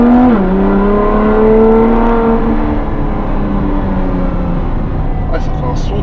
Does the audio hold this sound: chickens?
no